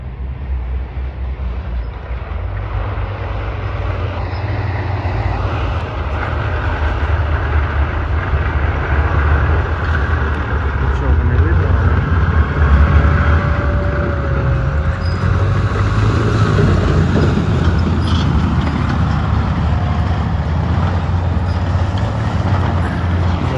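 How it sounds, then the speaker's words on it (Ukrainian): An armored vehicle drives along carrying wounded soldiers away from the front, a steady low engine rumble that swells slightly partway through and holds at a fairly loud, close level for over twenty seconds. "Так, друзі, поранених вивозять броньовик."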